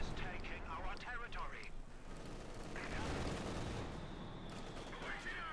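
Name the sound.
gunfire in Company of Heroes 2 video game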